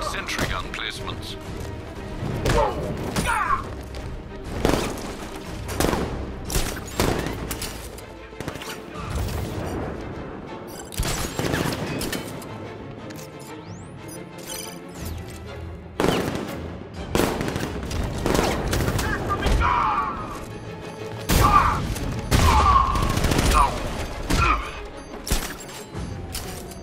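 Gunfire from militia soldiers in the Batman Arkham Knight video game, with loud bursts of shots and booming impacts in rapid, uneven volleys throughout, mixed with game effects.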